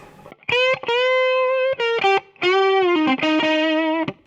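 A Stratocaster electric guitar played through distortion, with loud sustained notes cut by short rhythmic breaks, close and alone.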